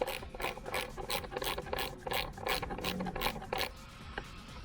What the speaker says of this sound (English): you just put these screws back in,